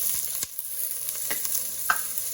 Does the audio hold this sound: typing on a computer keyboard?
no